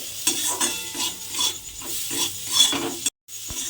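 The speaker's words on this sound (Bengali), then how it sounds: "গুঁড়ো মশলাগুলো দিয়ে আমি খুব ভালোভাবে কষিয়ে নিয়েছি একটু" Ground spices are stirred and sautéed in a pan, giving rhythmic scraping strokes of a spatula over a low sizzle, loud and close, with a brief dropout near the end.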